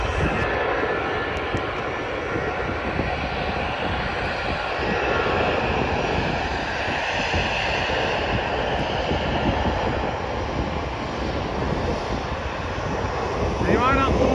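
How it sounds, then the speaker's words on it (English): A jet climbing away on takeoff at Manchester Airport, a continuous loud roar of aircraft engines heard from a distance across the runway, holding steady throughout. "I could get some good shots of the aircraft taking off"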